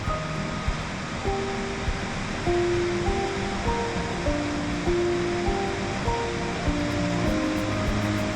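Loud, continuous roar of rushing water from two side-by-side waterfalls in the highlands of Chapada dos Veadeiros, Brazil, a dense steady wash of noise with faint music in the background.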